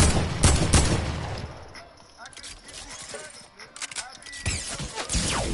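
Rapid bursts of gunfire in a Fortnite-style shooter, dense crackling volleys at the start and again near the end, with quieter shots and game effects between, under an excited voice talking.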